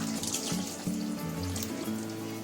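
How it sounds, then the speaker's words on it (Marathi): A glass of water is poured into malai kofta curry, giving a continuous, even rush of running liquid throughout with no voices. "बघा आता त्याच्यामध्ये 1 ग्लास पाणी टाकते बघा."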